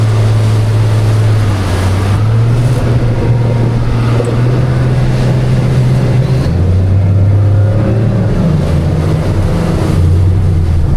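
A 23-foot Albury Brothers motorboat powers through rough breaking waves, its engine droning loud and close with repeated throttle swells and dips while water rushes and slaps against the hull throughout.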